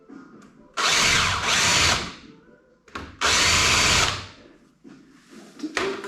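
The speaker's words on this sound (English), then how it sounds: "so I'm going to use a chamfer tool." A power drill spins a chamfer tool to countersink rivet holes in a wedge camper build, two loud sustained whirring runs of about a second each, close up, with quieter short bursts in between.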